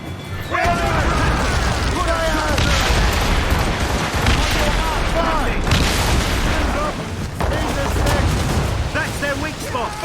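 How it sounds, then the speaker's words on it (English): Mortar fire in the naval video game Assassin's Creed Rogue, heavy booming blasts and crashing impacts rolling continuously, loud and close, mixed with shouting crew voices and battle noise. "Mortars incoming, Shay!"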